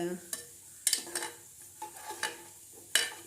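Jaggery being stirred with a little water in a cup, giving a few scattered scraping and clinking strokes of a spoon against the cup, close and fairly quiet, with no voices.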